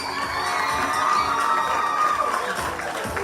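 A school sports awards audience cheers and shouts, children's voices whooping in a loud, sustained crowd roar that swells and holds, with a few claps mixed in.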